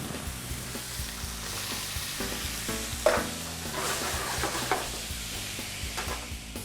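Steak and garlic fry in a pan for a steak pizzaiola, giving a steady close sizzle with occasional stirring and scraping clicks, moderately quiet and continuous throughout.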